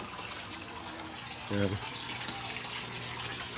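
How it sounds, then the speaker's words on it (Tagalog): Filtered water pours steadily out of a filter during a catfish harvest, a continuous splashing gush with someone speaking briefly over it. "Sasalain naman dito sa filter ko. Kapag labas ng tubig, ayun, malinaw at malinis."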